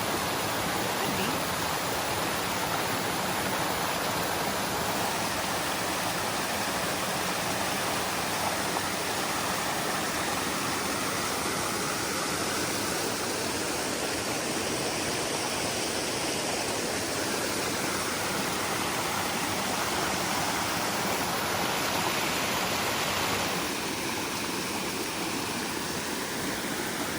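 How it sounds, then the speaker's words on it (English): Waterfall at a spring and mill site, a steady, dense rush of falling water filling the whole scene, loud and unbroken throughout, with a faint voice briefly in the background. "I think this is the waterfall I saw."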